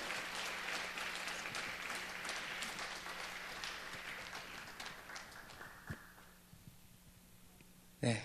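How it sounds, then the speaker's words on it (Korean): A church congregation claps steadily for a pastor during a Wednesday worship service, a dense roomful of hands that gradually thins and fades, ending with a short sharp knock near the end. "다시 한번 박수로 좀 환영해 주시기 바랍니다."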